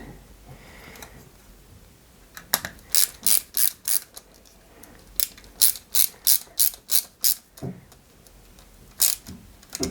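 Small A screws being driven by hand into the wing of a 1/8-scale Red Bull RB19 Formula 1 model, giving a series of close, crisp ratcheting clicks in quick bursts with short pauses between them, and no talking.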